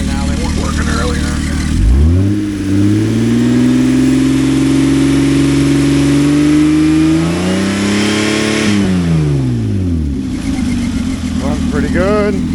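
A 1997 Lexus LX450 with its 1FZ-FE engine runs at a wrecking yard, climbing from idle into a long, steady, loud rev that is held for several seconds before dropping back down, followed by a shorter blip.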